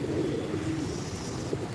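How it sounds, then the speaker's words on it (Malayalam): Low, soft pigeon cooing rolls along continuously beneath a steady hiss of background noise, nearby and fairly even in volume. "നമ്മുടെ പ്രാവുകൾ ഇതാ"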